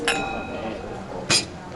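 Two bright glass clinks in a toast ring out at an aperitivo in Treviso, Italy, one at the start and a louder one near the end, amid a lively background of people talking.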